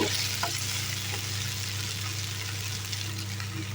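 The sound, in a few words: stirring brinjal and sweet corn curry in a pan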